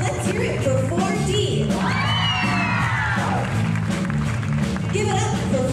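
Schoolchildren and parents in an elementary school show crowd cheer, whoop and clap for the 4D class dancers, a steady loud roar with shrill children's shouts and a rising whistle-like yell in the middle.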